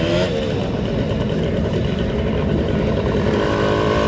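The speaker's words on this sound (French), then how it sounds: "la 125 RTX qui a eu énormément de succès dans les années 70" A 125 RTX motorcycle, a popular 1970s machine, runs its engine loud and close in a steady, buzzing drone. The revs climb slightly toward the end, with no talk over it.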